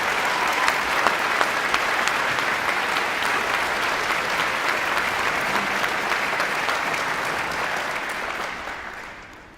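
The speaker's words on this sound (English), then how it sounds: "Please join me in another round of applause for Rudy Poole, Christopher Gray," Sustained applause from a large audience at a university commencement ceremony for music graduates, a dense, steady clapping that holds for several seconds before fading away at the end.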